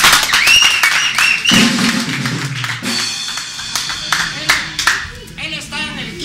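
An audience claps for a boxer being introduced at a live show, scattered applause with some sharp individual claps, while someone speaks Spanish over a microphone.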